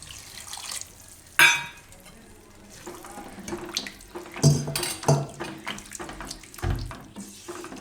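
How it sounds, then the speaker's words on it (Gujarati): Water splashes into a cooking pot of sauce for veg American chop suey, made with oregano and cornflour, in several short uneven bursts with pauses between, close and fairly quiet. "અને થોડુંક બીજું પાણી નાખશું."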